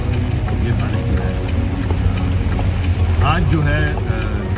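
Rain falling during a slow truck drive in Houston, Texas, heard as a steady broadband wash with low road and engine rumble throughout, a voice talking over it.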